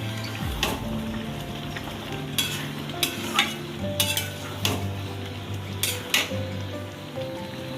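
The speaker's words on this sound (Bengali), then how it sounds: "এই ভাজা মশলাটা দিয়ে ভালো করে মিক্সড করে নেব" A utensil stirs fried spice mix into jackfruit curry in a pan, with repeated sharp scrapes and clinks over a low, continuous sizzle.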